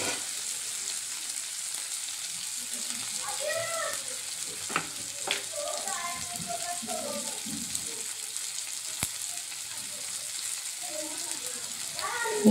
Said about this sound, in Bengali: পেঁয়াজ আর টমেটো ভালো করে নেড়ে চেড়ে একটু গলিয়ে নিতে হবে